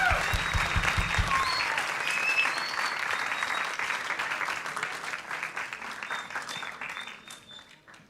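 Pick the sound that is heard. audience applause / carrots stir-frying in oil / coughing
audience applause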